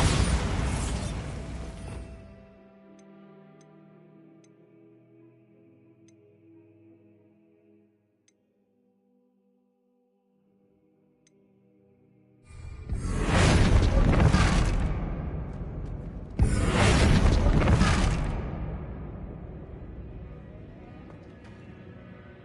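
Spell explosions in Hogwarts Legacy: a loud burst opens, fading into a quiet tonal ringing hum, then after near silence two more big broadband blasts erupt about four seconds apart, each with a long rumbling tail.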